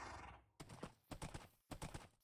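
Horse hooves in Minecraft clopping in three quick bursts of steps, fairly soft and close, with brief gaps between, no talking.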